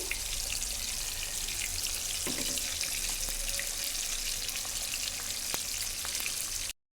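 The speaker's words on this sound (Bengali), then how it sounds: "আজকে পুঁটি মাছ রান্না করব মাছগুলো ভেজে নিচ্ছি" Small puti fish fry in hot oil, giving a dense, continuous crackling sizzle close by, with occasional sharper pops, before the sound cuts off abruptly at the end.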